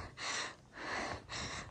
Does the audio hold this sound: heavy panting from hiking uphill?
yes